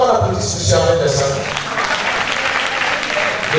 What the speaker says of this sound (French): J'aimerais qu'on applaudisse M. Ahmed Dessan